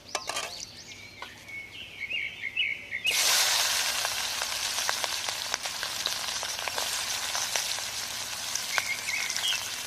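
Capsicum and chopped garlic hit a hot pan outdoors at a garden picnic and burst into a loud, steady sizzle after a few quiet seconds, with birds chirping faintly in the background.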